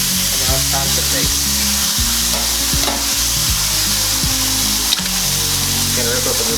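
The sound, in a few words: Wagyu steak sizzling in a pan while being flipped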